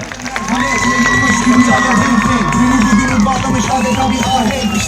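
A festive outdoor crowd at the Karatay Lavender Days event in Konya cheers and claps for the mayor, a loud, steady wall of voices and applause with music-like tones running through it.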